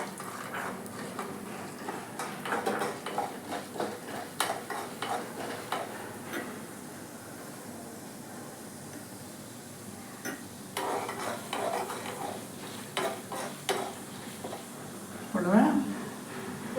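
Urad dal and dried chillies frying in a generous amount of oil while a spoon stirs them, giving a soft sizzle broken by scrapes and light clinks against the pan, with a louder stir near the end.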